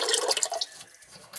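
A kitchen faucet runs with a steady, close splash and trickle of water into a sink, the rush fading and turning quieter and drippier toward the end.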